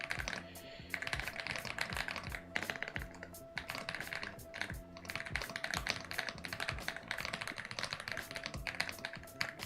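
Fast, continuous typing on a computer keyboard during a Monkeytype speed test. Dense, rapid clicking of keys carries on steadily at close range without any speech.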